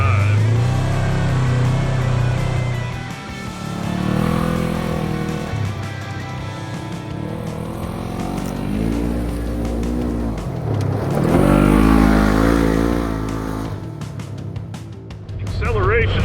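A 2025 Polaris RZR Trail side-by-side accelerates off-road, its loud engine climbing and falling through several rising sweeps, with a voice talking over the engine noise throughout.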